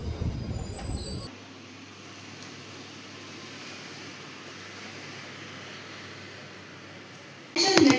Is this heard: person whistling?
no